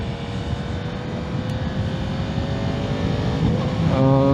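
Yamaha MT-10 SP motorcycle riding along, a steady, loud engine drone with rising tonal harmonics as it accelerates toward the end, continuous wind-and-engine roar with no talking.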